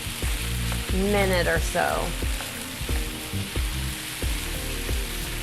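Garlic and tomatoes sizzle and crackle steadily in hot oil in a pan, a loud continuous frying hiss under a voice talking.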